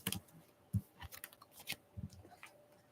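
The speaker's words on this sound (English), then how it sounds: "I probably should shuffle it up a bit more" Soft, irregular papery riffling and tapping as a brand new tarot deck is shuffled close by, quiet and uneven.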